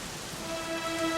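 Steady rain falls in the video game Dragon Quest XI, a continuous soft patter of drops on surfaces with no voices, holding at an even, moderate level throughout.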